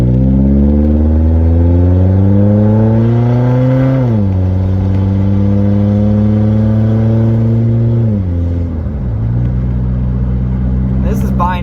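A 1983 Volvo 242 pulls away from a green light, its engine revving loud and close through two rising gear pulls with shifts between, a steady mechanical drone throughout.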